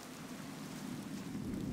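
Steady rain pours in the video game Gothic 2 at night, a dense, even hiss that holds at a constant level for the whole moment with no other sounds over it.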